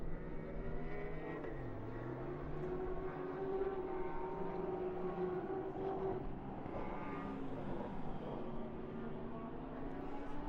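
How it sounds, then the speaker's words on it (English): KTM GT race car exiting the pit lane at Autodrom Most during a GT endurance race, a faint, distant engine drone rising and shifting in pitch under steady background track noise. "here it is, the beautiful KTM with a great livery as well, coming out of the pit lane"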